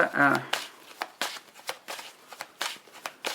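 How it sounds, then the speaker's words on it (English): Tarot cards are shuffled by hand in quick, uneven bursts of crisp riffling and soft slaps, close up, with brief talk at the start. "I'm being told to shuffle them out."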